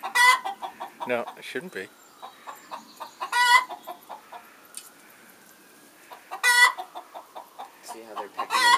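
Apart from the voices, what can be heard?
chickens clucking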